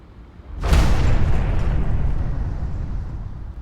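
A bomb explodes in the video game Murder on the Alps, a loud sudden boom with a heavy, rumbling low end that decays slowly over several seconds.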